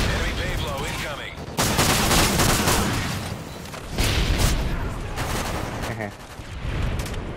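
Heavy gunfire in Call of Duty Modern Warfare 3 Domination, dense bursts of automatic fire and explosive booms in loud waves, with players talking over the shooting.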